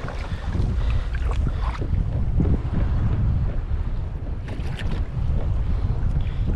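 Wind blows hard across a pedal kayak at sea, giving a constant, loud blustery roar with buffeting microphone noise and faint splashes of water.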